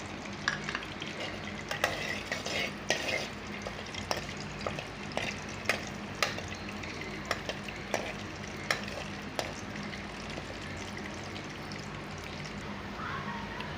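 Bay leaf, green cardamom, cinnamon and cloves fry in a little oil in a karahi, giving a quiet, steady sizzle with faint crackles and occasional light taps of stirring, no talking.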